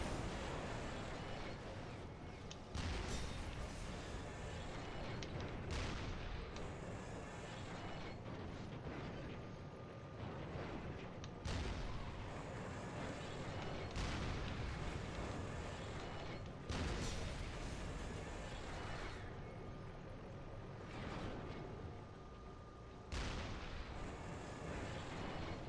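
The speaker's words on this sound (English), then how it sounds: "You look at the explosions on this and the smoke and the debris" Explosions in the war shooter Resistance: Fall of Man go off as a series of deep, booming blasts every few seconds, faint and distant, over a constant rumbling battle ambience.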